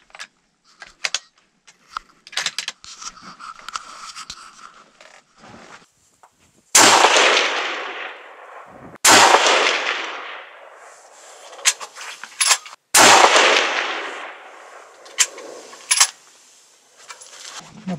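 Three loud rifle shots fired with no suppressor fitted ring out at spaced intervals, each a sharp crack with a long decaying tail, amid faint handling clicks and rustling between them.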